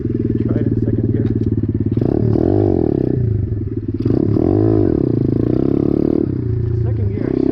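A pit bike motorcycle engine revs hard in second gear on gravelly desert ground, loud and close throughout, its pitch rising and falling in repeated surges with mechanical clatter.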